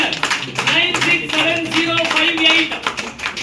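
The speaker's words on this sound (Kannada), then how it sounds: "ಜೋರಾದ ಚಪ್ಪಾಳೆ ಕೊಡಿ ಇವರಿಗೆ" Audience applause at a monthly lucky draw as a gold coin winner is announced, a burst of clapping from a crowd, moderately loud and sustained.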